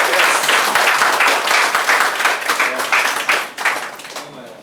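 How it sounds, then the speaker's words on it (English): Audience applause at the close of a school debate competition, a dense, steady wash of clapping from a crowd that stays loud throughout and tapers slightly at the end. "So give them a round of applause."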